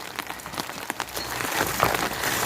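Steady rain patters on an outdoor surface at a village home, a dense, even hiss of drops with a few sharper close taps and no voices.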